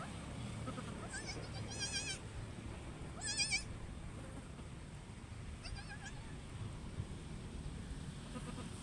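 A goat that has just given birth to two kids bleats faintly several times in quavering cries, set against a steady outdoor rumble of background noise on a hot day.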